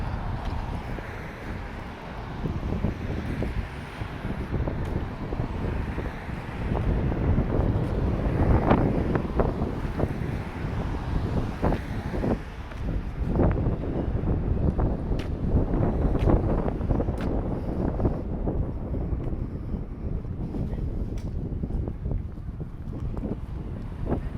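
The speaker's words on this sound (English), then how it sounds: "That's what we got for the wind up here." Gusty wind blowing outdoors during a city walk from Quinpool to the South End downtown, loud steady rumble buffeting the microphone with fluctuating intensity and no speech.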